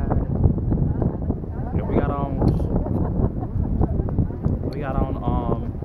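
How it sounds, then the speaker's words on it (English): Wind gusting across a microphone on Catalina Island in cold weather, a steady low rumble running throughout the clip, heard under continuous talking. "The wind is blowing, and it's cold outside."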